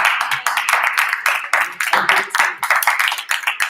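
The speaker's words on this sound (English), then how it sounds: "Give him a round of applause." Players at a tabletop game of Apples to Apples clap together for the round's winner, a brisk, close burst of many hands that keeps going steadily for a few seconds in a small room.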